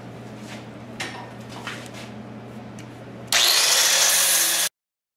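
After a low hum and a few light metallic clanks, a grinder bursts on loud and harsh against a go-kart weld, roaring for about a second before cutting off abruptly into silence.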